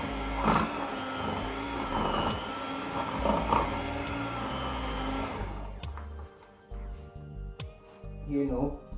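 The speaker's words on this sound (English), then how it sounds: "whisk it again" Electric mixer whisking an ice cream mixture with a loud, steady motor whir that stops partway through, leaving brief clinks and handling sounds.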